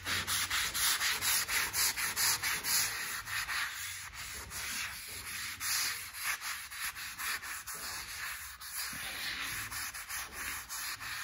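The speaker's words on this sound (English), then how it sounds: "the object is to sand this completely off" Dry powder guide coat being sanded off custom car paint, a steady close scratchy rubbing in continuous back-and-forth strokes with no speech.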